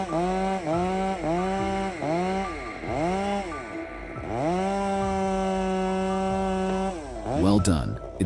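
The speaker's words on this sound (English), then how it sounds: "How long do you think it will take him to take down this giant monster with that giant chainsaw?" A giant chainsaw revs loud and close while lumberjacks cut down a huge tree, the engine rising and falling in repeated surges as the bar bites into the wood, with a burst of louder rasping near the end.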